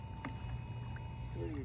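A Zippkits Springer model tug boat runs at full throttle on water, its small motor giving a steady, high-pitched electric whine with constant hum and light wind noise.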